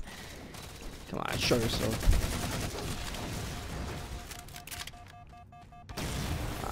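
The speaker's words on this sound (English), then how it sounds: "Here comes the grenades." Explosions and rapid gunfire from Halo 4 online multiplayer rumble through a chaotic firefight, with a heavy thump partway through, while someone talks over the noise.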